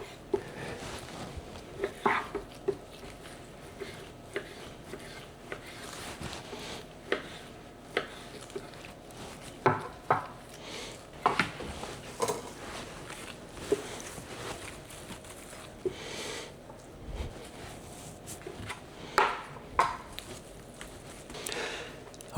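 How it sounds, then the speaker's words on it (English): A knife trims fat from beef and cubes the meat on a board, giving scattered soft taps and cuts at an uneven pace, close but faint, with brief quiet talking at times. "we're just going to cut around this fat that's in there"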